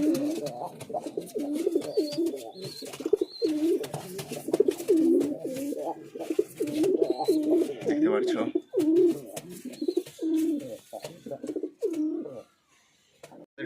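Lotan pigeons coo over and over at close range, a steady run of throaty, rolling calls with a few faint higher chirps, ending in near quiet after about twelve seconds.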